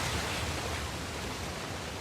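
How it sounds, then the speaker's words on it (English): Waterfall in the video game Uncharted: The Lost Legacy, a steady broadband rushing wash with no breaks, soft and continuous with no voices. "Another waterfall."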